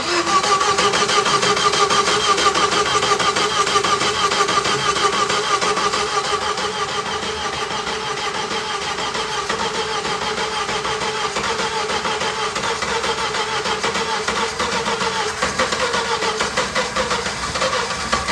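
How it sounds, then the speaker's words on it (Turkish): A 1985 Ford Fiesta engine cranks steadily and catches, settling into a loud, rough mid-pitched running sound that continues without pause and with no talk. "Ama herhalde bir 2-3 tane çalıştırırsak son kez bir daha marşa basıyoruz."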